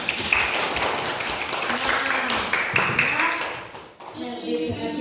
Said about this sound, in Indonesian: Kalau bersemangat, tepuk tangan dulu.